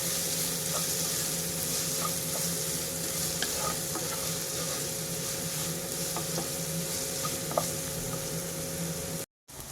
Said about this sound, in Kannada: ಈರುಳ್ಳಿ ಚೆನ್ನಾಗಿ ಬೇಯಬೇಕು, ಹಾಗಂತ ಬ್ರೌನ್ ಕಲರ್ ಆಗಬಾರ್ದು.